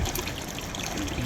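Hot spring water flowing out into a river, a steady close trickling and gurgling wash of water with no voices, even in level throughout.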